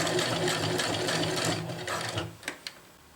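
A sewing machine runs in a fast, even whir as it stitches a diagonal seam across a water bottle carrier, then slows and stops with a couple of short clicks as the stitch is locked.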